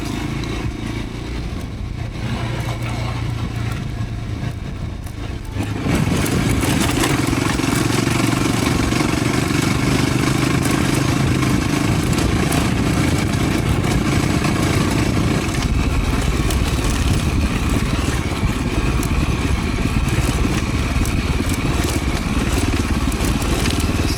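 A motorcycle ridden over a rough, jarring road in Cameroon, its engine droning loud and steady with rattling and knocking from the bike's parts throughout, becoming much louder after the first few seconds.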